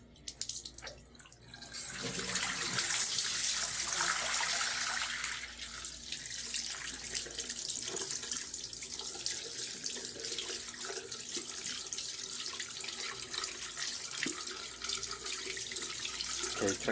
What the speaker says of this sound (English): Okay, try turning off the water.